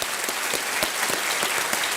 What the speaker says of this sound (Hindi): एक बार जोरदार तालियां हो जाए अभिजीत जी के लिए।